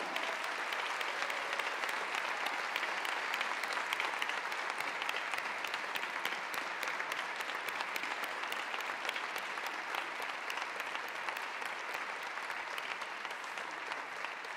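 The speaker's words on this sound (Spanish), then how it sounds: "Un fuerte aplauso" Sustained applause from a large audience at an environmental awards gala, dense and steady throughout with no talking over it.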